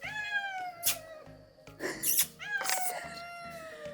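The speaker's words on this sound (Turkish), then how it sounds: "Amca bak, kedi var orada." A village cat meows repeatedly outdoors, several clear drawn-out calls rising and falling, close and fairly loud, with a faint rhythmic low hum running underneath.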